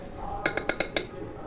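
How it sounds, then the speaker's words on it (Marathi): A spoon knocks against a pot while rice is stirred during cooking of soybean masala khichdi, giving five quick metallic clinks in a row over quiet background. "आता याला मस्त चमच्याच्या सहाय्याने हलवून घ्या."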